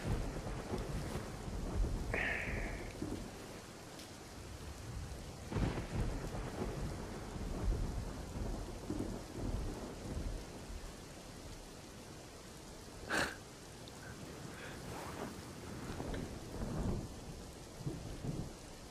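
A thunderstorm with steady rain falling on surfaces and rolling thunder claps, one sharp crack standing out near the middle, heard alone at moderate loudness without voices.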